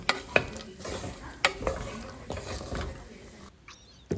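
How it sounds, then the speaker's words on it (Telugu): A chickpea tempering fries in a pan while a spoon stirs it, giving steady sizzling with repeated scraping taps near the microphone. A short quieter stretch comes near the end. "ఇప్పుడేమో శనగల తాలింపు చేస్తున్నా."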